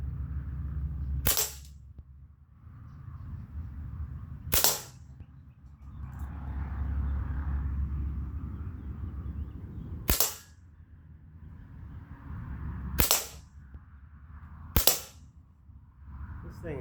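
Five sharp airgun cracks from an Umarex KOMPLETE and a Sig Virtus fired at outdoor targets 25 to 50 yards out, spaced a few seconds apart, loud and close, with faint birdsong and murmuring voices between shots.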